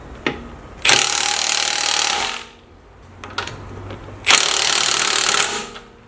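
A power tool tightens wheel bolts in two long ratcheting bursts, loud and close, separated by a short pause and a few small clicks.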